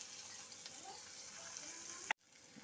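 Chopped onions and black cumin seeds fry in oil with a soft, steady sizzle at low level, ending in a brief sharp knock and sudden drop to near silence.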